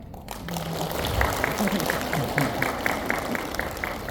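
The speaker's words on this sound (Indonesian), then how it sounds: "Ayo kita sambut upline kita, Maki. Tepuk tangan dong." An audience at a leadership academy event in Surabaya claps along under steady crowd noise and background music, a moderate, continuous patter of hands.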